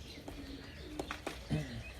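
Flying pigeons on a rooftop in Mirpur in the morning coo in short bursts, mixed with a few sharp chirps and brief fluttery rustles, all nearby and without speech.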